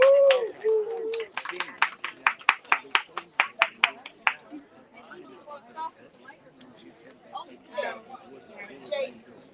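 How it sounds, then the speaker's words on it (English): A small audience at a book festival booth gives an author a round of applause, about fifteen crisp, evenly spaced claps close by, then loose chatter and murmuring as the clapping stops. "A round of applause, please."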